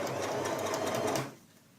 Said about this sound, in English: So I'm not going to sew all the way out yet. I'm just going to fasten that a bit.